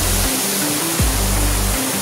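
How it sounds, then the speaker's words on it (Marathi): River water rushing under high pressure in a village stream, a dense, loud, continuous roar of spray and churning flow filling the whole short stretch with no voices. "इकडे नको गाईज, खूप जास्त प्रेशर आहे पाण्याचा"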